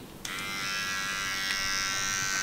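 Electric hair clippers buzz steadily at close range during a boyfriend's haircut, switching on sharply and holding a constant high whine with no talk.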